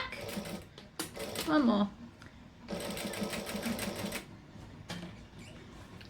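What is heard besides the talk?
sewing machine stitching forward and back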